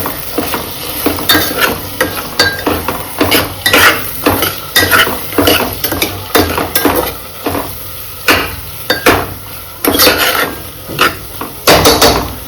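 Vegetables and spices with salt, garam masala and turmeric being stirred in a pan for veg pulao, with repeated loud scraping strokes of a spoon against the pan and a light sizzle underneath throughout.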